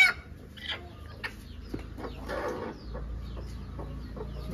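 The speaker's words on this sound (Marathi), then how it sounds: "कोंबडी खूप चावती आहे, एकदम तिखट कोंबडी ही।" A broody hen, said to peck hard, gives soft, scattered clucks close by in a quiet room, among faint background noise.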